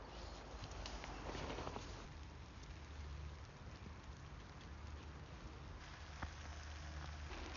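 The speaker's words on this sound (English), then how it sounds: "It's raining again." Rain falling on a camping tarp in the woods, a faint, steady patter and hiss with occasional heavier drops, continuous throughout.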